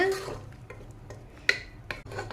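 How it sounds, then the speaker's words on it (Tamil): Coconut paste being stirred into chow chow kootu in a pan, giving soft scraping and rubbing strokes with a few sharp clinks of the spoon against the vessel, close and fairly quiet. "நல்லா கலந்து விடுங்க"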